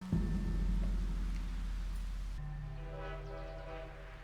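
A train in a TV drama rumbles loudly as it approaches and slows to a stop, with a heavy low drone and a long sustained horn-like tone that cuts off abruptly partway through, leaving a quieter rolling hum.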